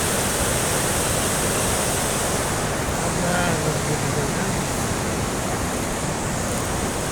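A river in flood roars loudly and continuously, a dense broadband rush of water filling the whole span, with a voice briefly audible beneath it midway.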